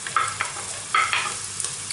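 Red pepper, carrot, bay leaf, onion and garlic fry for a sofrito in a pan, giving a steady close sizzle broken by a few louder scraping stirs, with no talking.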